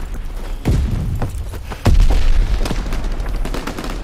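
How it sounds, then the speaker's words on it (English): A thrown grenade blows up in a PS4 shooter game, heard as two heavy booming blasts about a second apart with rumbling tails, among scattered gunfire pops and battle noise, loud and close. "Tossing the grenade."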